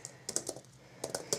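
Typing on a Surface Pro 3 magnetic attachable keyboard, quiet clustered keystroke clicks in two short bursts separated by a brief pause, close up.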